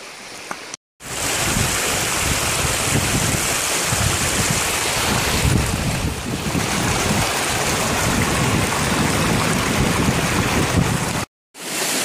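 A river in the Alps rushes steadily and loudly, a broad continuous roar of flowing water close by, with brief dropouts near the start and end and no voices.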